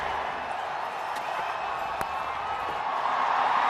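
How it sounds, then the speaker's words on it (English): A cricket crowd roars steadily after a wicket falls in a T20 international between Ireland and India, a dense, continuous wash of cheering with a few sharp whistles or shouts poking through. "The crowd are cheering"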